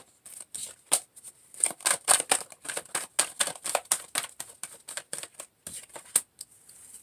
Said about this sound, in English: Let me go ahead and cut this deck and let's see where we're going.